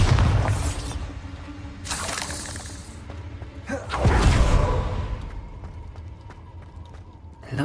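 Bombarda explosion spell in the Hogwarts Legacy video game: a loud blast with a shattering burst and rumble, amid other spell whooshes and impacts, with a voice calling out over the action.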